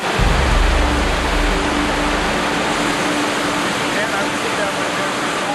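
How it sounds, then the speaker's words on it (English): Big Class 3 river rapid with a hole at the bottom, a dense, constant roar of rushing whitewater heard close and loud, with a low rumble at first. "we've got a really big, beefy Class 3 rapid with a hole at the bottom"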